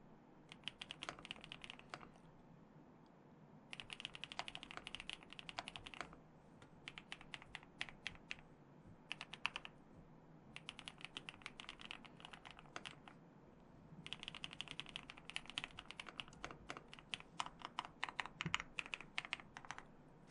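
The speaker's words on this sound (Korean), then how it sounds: "첫 번째로는 제가 사랑하는 기계식 키보드의 탁원 소리를 들려드릴게요." Bursts of crisp, clicky keystrokes from a mechanical keyboard, typed in rapid runs with short pauses between, close up and with no talking.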